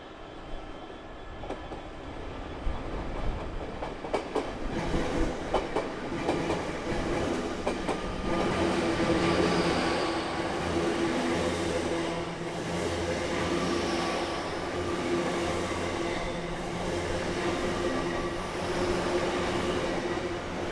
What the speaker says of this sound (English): 800-108 comes off the Trowbridge line after it too was diverted via Melksham.